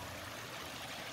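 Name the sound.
water flowing, diverted for irrigation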